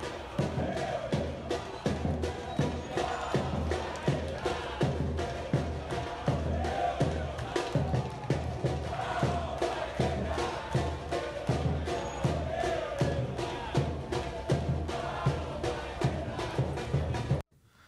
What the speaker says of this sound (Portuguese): ontem houve um protesto da torcida do Cruzeiro na, na sede, no Barro Preto